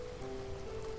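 Rain in the point-and-click horror game The Last Door, a faint, steady patter under a low sustained tone.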